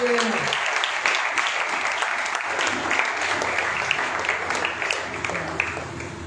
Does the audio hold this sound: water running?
no